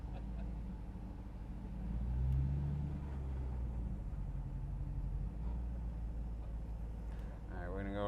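A Hemi-swapped 1971 Dodge Challenger driving, with a low, steady engine rumble and a brief swell of revving partway through, heard from inside under ongoing talk.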